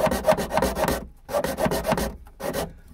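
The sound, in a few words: small hacksaw cutting car speaker mounting area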